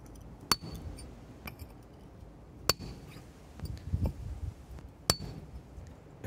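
A hammer strikes a cold chisel held against rock along a cleavage line, giving three sharp metallic clinks about two seconds apart, with softer knocks and handling noise between them, close up.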